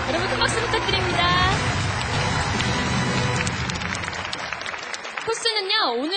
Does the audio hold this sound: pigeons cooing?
no